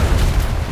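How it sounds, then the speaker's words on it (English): Ship cannons on a first-rate sailing warship in the DarksideRP game fire as a dense, loud broadside, a continuous low rumble of booms packed into under a second with no gaps. "All guns fire at this thing."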